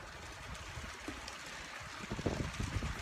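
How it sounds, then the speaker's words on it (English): A small mountain stream in Estes Park, Colorado flows in the background as a steady, faint outdoor wash, with some louder rustling toward the end. "You can hear the little stream in the background."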